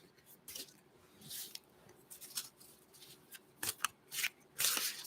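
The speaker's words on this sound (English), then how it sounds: "I just shuffle the cards first a bit." A deck of tarot cards shuffled up close, soft papery slides and sharper riffling snaps coming in irregular bursts, getting busier toward the end in an otherwise quiet space.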